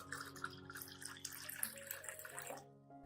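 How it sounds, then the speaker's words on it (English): Clean water pours from a container into a coffee and oat fertilizer solution for orchids, a faint, bubbling trickle with gurgling tones that runs for a few seconds before tapering off near the end. "Finally, add 1 liter of clean water to dilute the coffee and oat solution."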